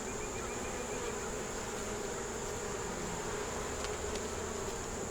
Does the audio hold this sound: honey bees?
yes